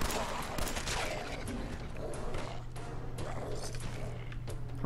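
Rapid weapon fire in the post-apocalyptic shooter Fallout 4 comes as a fast, fairly quiet fusillade of shots that rise and fade through the clip, mixed with game noise and a steady low hum.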